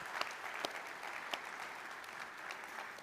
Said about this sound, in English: would you give a round of applause to the super moms in the room?